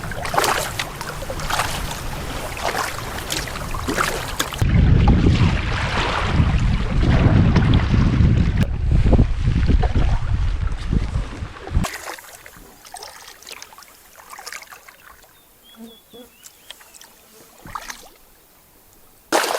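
Canoe paddling on the Partridge River at sundown, with broadband wind and water rush, heavy and loud in the middle section, then quieter lapping and small splashes of paddle strokes toward the end.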